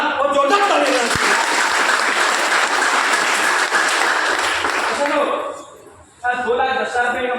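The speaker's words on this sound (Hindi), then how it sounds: "अगर आपके पास कोई रास्ता नहीं है तो आप AWPL के लिए एक बार दमदार और जोरदार ताली बजाइए।" Loud, dense clapping from an AWPL business seminar audience that sustains for about five seconds, dips briefly, then bursts up again, with a voice speaking over the applause toward the end.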